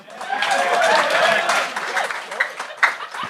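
A studio audience at a Gong Show comedy taping bursts into applause and scattered clapping, loud at first and then thinning out, with some chuckles and voices mixed in.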